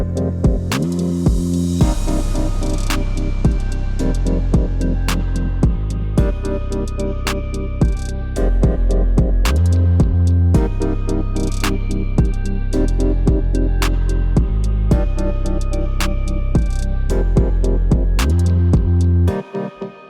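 A sad, nostalgic beat made in FL Studio with Omnisphere synth sounds plays steadily, with a layered synth melody over heavy bass and punchy drum hits, ending abruptly.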